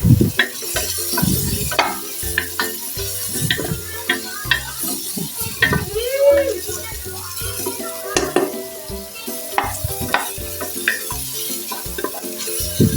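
Garlic and onion sauté in a pan for sinigang with pork belly, with a crackling sizzle under frequent spatula scrapes and clinks against the metal, close and busy throughout.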